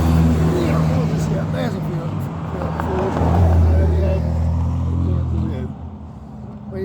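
Several German cars drive past on a road, their engines rising to a loud rumbling swell mid-clip and fading away, with someone speaking over them.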